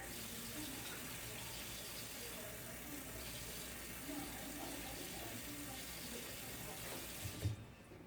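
Tap water runs steadily into a measuring container for mixing alginate impression material, a faint continuous trickle that cuts off near the end.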